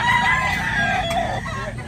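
Roosters crow at the Tabunok market, several loud drawn-out calls overlapping one another amid steady crowd noise and clucking, with no clear talk.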